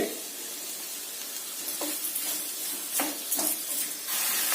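Onions fry in a pan with a steady, close sizzle throughout, broken by a few brief scrapes and clinks of stirring toward the end; no one speaks.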